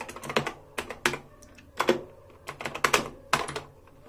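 Fingers typing in short bursts on a cheap white backlit mechanical gaming keyboard with soft keys, crisp close clicks in quick clusters separated by brief pauses, with no voices.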